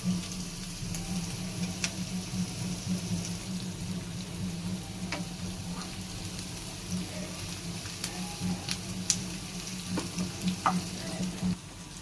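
Ingredients for mint rice fry in a pan with a continuous close sizzle over a low hum, broken by light clicks and scrapes from stirring.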